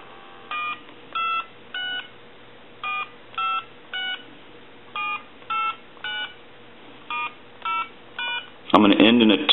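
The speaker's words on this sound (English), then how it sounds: "Now what we want to do is I want to dial some numbers." A Trimline telephone is dialed, giving a series of about a dozen short, evenly spaced DTMF beeps, clean and distinct, that end with a burst of louder noise.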